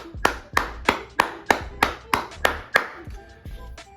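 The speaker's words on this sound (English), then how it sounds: "Let's give a round of applause" A single person claps about a dozen times in a slow, steady rhythm, each clap sharp and close, in an RC truck hobby setting with no talk.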